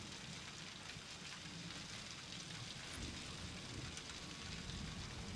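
Steady rain in a video game, a dense even hiss that holds without break from start to finish, with a low rumble underneath and no voices.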